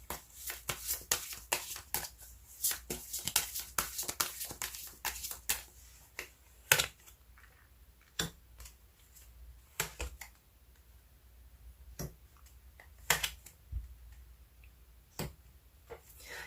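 Tarot cards are shuffled and drawn close up in a quiet room, producing a quick flurry of crisp taps and flicks that thins out into sparse, isolated card snaps and clicks.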